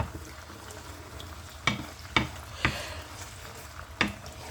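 Pumpkin seeds and meat cooking together in a pan, stirred with a few distinct scraping strokes over a steady low sizzle, close and moderately quiet.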